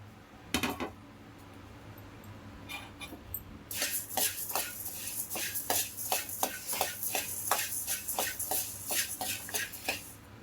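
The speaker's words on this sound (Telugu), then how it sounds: "ఇప్పుడు ధనియాలు వేయించుకుందాం." Coriander seeds dry-roasting in a pan for sambar powder, heard as a steady run of light scraping and rattling clicks as the seeds are stirred, fairly close and with no talking.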